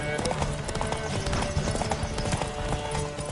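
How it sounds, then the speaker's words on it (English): Horse hooves pounding rapidly in a horse race in The Witcher 3: Wild Hunt on PS5, a steady galloping clip-clop loud and close under game voices calling out. "Riders, ready! Come on, Witcher!"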